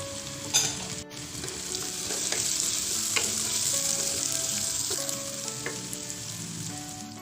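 Spice paste and whole chilies sautéing in a pan for yellow-spiced tuna, a steady loud sizzle and frying hiss with scattered clinks and scrapes of stirring, no voices.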